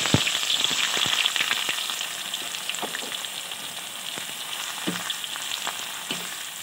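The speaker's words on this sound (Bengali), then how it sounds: "তেলটা গরম হয়ে গেছে, এই তেলে দিয়ে দেবো 2টো তেজপাতা, দিয়ে দেবো গোটা জিরে, এখন দিয়ে দেবো পেঁয়াজ কুচি।" Chopped onions fry in hot oil with two bay leaves and whole cumin for chicken handi biryani, giving a dense, close sizzle with scattered stirring clicks that eases slightly after the first seconds.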